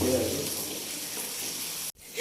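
Tomatoes, chillies and spices sizzling in a hot kadhai in a home kitchen, a steady close frying hiss that cuts off abruptly near the end before a brief clatter.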